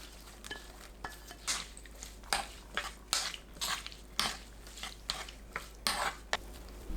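Sliced paprika being tossed with a soy, vinegar, raw cane sugar and sesame oil dressing in a bowl, giving repeated wet clattering and scraping of a utensil against the bowl in uneven bursts, close and clear with no talk.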